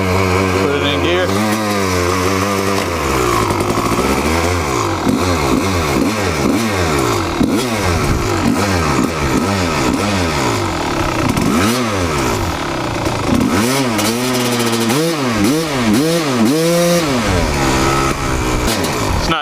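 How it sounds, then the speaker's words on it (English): A Kawasaki KX dirt bike engine revs loudly and continuously in gear, its pitch rising and falling in repeated throttle blips with a rough clattering edge, while people talk over it. "Pull the clutch in, give it some gas."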